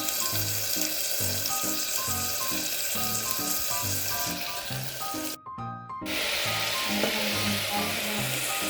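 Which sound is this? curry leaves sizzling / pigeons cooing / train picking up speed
curry leaves sizzling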